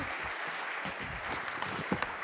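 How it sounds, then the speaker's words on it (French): Audience applause at a water and environment industry congress as a volunteer is called up onto the stage: a steady, dense wash of clapping filling the short moment, with a few sharper claps toward the end. "Venez me rejoindre sur scène, on peut vous applaudir."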